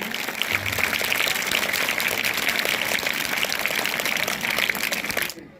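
Loud, dense applause from a school audience at a children's day annual function, sustained steadily for about five seconds before cutting off abruptly.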